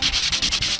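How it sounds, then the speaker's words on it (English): Brisk rhythmic hand sanding with 120-grit sandpaper, about nine quick strokes rasping back and forth up close. "I will sand it with 120 grit sandpaper"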